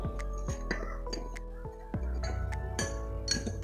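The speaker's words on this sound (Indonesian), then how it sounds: "masukkan 2 sendok gula ke dalam gelas yang berlabel air plus gula" A metal spoon clinks against a glass several times as two spoonfuls of sugar go in during a simple classroom science experiment, with sharp bright chinks spread irregularly over a steady background hum.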